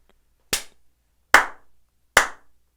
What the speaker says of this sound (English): Was that your slaps and claps?